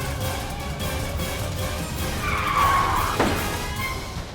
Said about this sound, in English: He performed a great little turn, great little slide in a tight little area